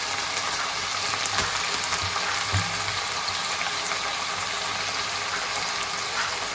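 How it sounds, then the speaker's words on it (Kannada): Two kilograms of chicken go into a hot pan for chicken sukka and sizzle steadily, a loud, constant frying hiss with occasional crackles and small pops close by, with no talking. "ಈಗ ಕೋಳಿ ಮಾಂಸ ಹಾಕೊಳ್ತಿದ್ದಾರೆ ಅಮ್ಮ"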